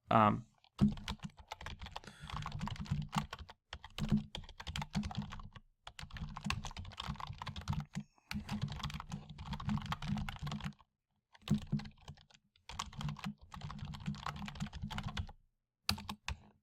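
Rapid typing on a computer keyboard, with close, crisp key clicks coming in bursts of several seconds separated by short pauses.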